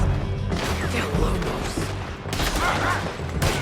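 A Red Dead Redemption 2 town gunfight, with a busy, continuous mix of shots and crashing impacts that stays loud throughout and ends in a sharp burst.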